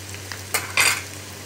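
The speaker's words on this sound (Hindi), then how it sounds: "अब ये इसको हम 2 मिनट तक मिक्स करेंगे" Sausage macaroni with ketchup being stirred in a hot pan: two quick spoon scrapes against the pan over a low sizzle, close and fairly loud, with no talking.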